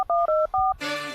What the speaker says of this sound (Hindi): मिस्त्री को लगाता हूँ फोन